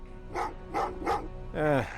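Dogs in the Terminator: Resistance video game bark four times, three evenly spaced barks and then a longer, howling yelp, close and distinct.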